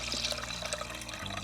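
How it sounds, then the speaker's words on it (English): Cold tap water poured into rice for a rice cooker, a continuous splashing, gurgling stream, close and fairly loud, with a brief shift in tone near the end. "I'm gonna add some water to my rice. Just a cold tap water."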